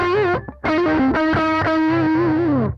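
Electric guitar driven through an overdrive pedal for a heavy, doom-style tone: loud sustained distorted chords with a brief gap near half a second, then ringing held notes until the end, with no talking.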